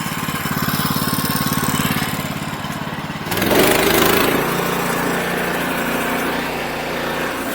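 Sawmill cutting wet timber into beams, the steady engine drone shifting to a lower, strained pitch as the blade bites into knots, loud and continuous from nearby.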